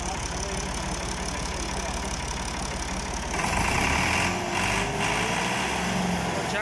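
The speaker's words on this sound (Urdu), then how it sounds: "تو آ ٹریکٹر ساڈا ویلی کے اندر انٹر ہو گیا، جیسا تھی دیکھ رہے ہو." A Massey Ferguson MF 260 tractor engine runs steadily in a field during corn season, a continuous close diesel drone that shifts tone and rises slightly midway, with a voice talking over it.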